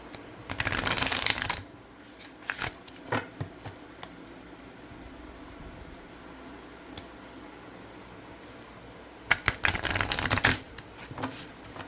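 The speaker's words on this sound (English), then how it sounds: "So they shuffle really well." A 44-card Secret Garden Oracle deck is shuffled in two quick, crisp riffling bursts, one at the start and one near the end, with quiet handling of the cards between them.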